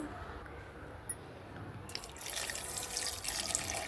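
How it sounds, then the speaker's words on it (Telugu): Quiet at first, then water starts pouring into a mixer jar holding grapes and sugar, a soft, splashy trickle that continues to the end. "కొద్దిగా వాటర్ కూడా వేసాను"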